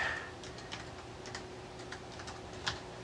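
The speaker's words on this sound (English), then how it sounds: "I've got terrible typing" Typing on a ZX Spectrum Next computer keyboard: soft, irregular key clicks close by over a low steady hum, with no voices.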